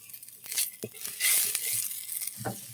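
Bay leaves and whole tempering spices hitting hot oil in a pan, giving bursts of crackling sizzle with a few sharp stirring knocks, close and fairly quiet.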